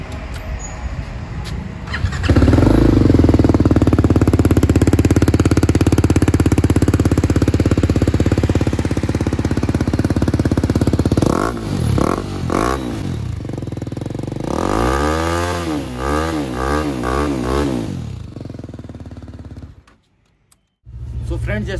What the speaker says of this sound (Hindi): तो भाई ये रही हमारी बाइक, और इसका हम सुनने वाले हैं एग्जॉस्ट नोट, ये कर दिया हमने स्टार्ट